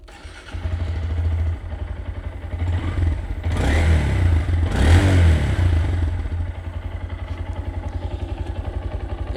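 A Honda Grom motorcycle on its stock factory exhaust starts up and idles close by, with a soft, steady putter that swells briefly as the throttle is blipped, then settles back to a quiet idle.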